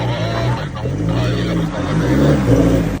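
A 4x2 car grinds up a rough, rocky road near a campsite in Gabaldon, its engine a close, labored, steady drone with voices mixed in.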